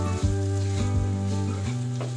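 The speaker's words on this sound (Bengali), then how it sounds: "আমি 1 মিনিটের মতো একটু নাড়াচাড়া করব, এটাকে একটু ভাজা ভাজা করব।" Jackfruit seeds stir-fried in a pan, a loud continuous close sizzle with a steady low hum underneath and brief stirring scrapes, no voices.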